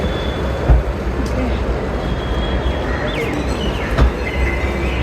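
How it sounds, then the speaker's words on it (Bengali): Steady rumbling roar of a Delhi Metro Airport Express train in motion, with faint squeals and clunks over the continuous noise. "প্রথমবার দিল্লি মেট্রোতে চাপলাম"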